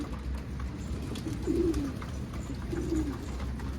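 Wild pigeons coo softly in two short, low, throaty bursts over a steady outdoor background hum, with no talking.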